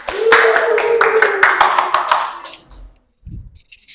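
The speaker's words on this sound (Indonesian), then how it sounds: "tepuk tangan untuk kelompok 5." A class claps hands for a student group, brisk close clapping over a held spoken tone, fading out after a couple of seconds, followed by a short low thump.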